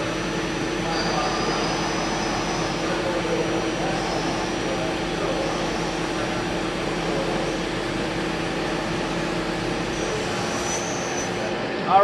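A Femco CNC lathe roughs out a part with coolant running, giving a steady, even machine hum with a constant tonal whine and a faint hiss throughout and a brief clunk at the end.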